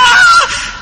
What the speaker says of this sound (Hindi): इस बार अंकुर सच में चीखा